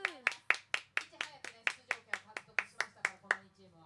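About fifteen evenly spaced, crisp hand claps close by at a dance competition results announcement, a rhythmic clap-along rather than a full crowd, slowing and fading at the end.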